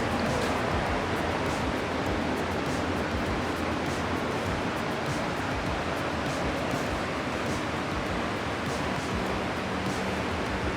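A light dusting of clear coat sprayed onto a carbon fiber hood for a 2015+ Subaru WRX, a steady, even hiss of spray that runs without a break and stays close and moderately loud throughout.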